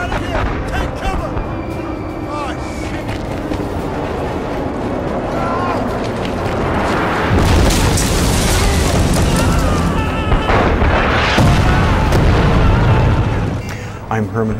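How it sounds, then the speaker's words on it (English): Mortar explosions rumble through a Killzone 2 battle, heavy booms and bursts layered over dense gunfire and combat noise, loud and sustained, with shouted voices mixed in. "Mortars! Fall back!"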